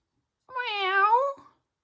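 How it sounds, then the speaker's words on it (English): A single clear cat meow, about one second long, rising and falling in pitch, close and alone in silence. "meow, a cat"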